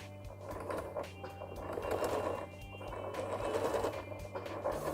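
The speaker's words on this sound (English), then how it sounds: "So just sewing 2 to 3 stitches," A sewing machine runs at a moderate, steady pace as it back tacks a few stitches at the start of a Hong Kong finish seam, binding a bias strip over the seam allowance. The close mechanical whir pulses with soft stitching clicks, and no one speaks.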